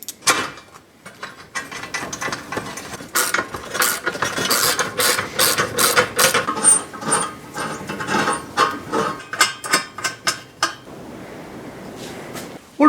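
Lock nuts being tightened onto flange bolts while building a forge give a dense run of sharp ratcheting clicks and metallic mechanism noise, close and fairly loud, going for most of the stretch before easing off near the end.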